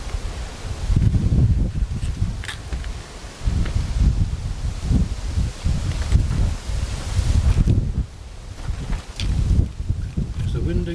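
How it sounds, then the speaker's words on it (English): Gusty wind blows across an outdoor garden kitchen, a steady low rumble with buffeting against the microphone, mixed with speech throughout. "There's the wind again."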